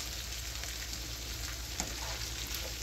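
Diced potatoes pan frying on a stove over medium-high heat, a steady broadband sizzle that holds even throughout with a few small pops, close and alone without talk.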